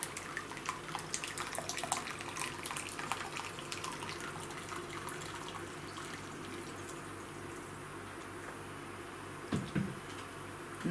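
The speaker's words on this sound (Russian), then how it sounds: "Я наливаю в ведро кипяток." Boiling water poured into a bucket, a steady close splashing stream that runs continuously and fades slightly near the end, followed by a brief clunk, with no talking.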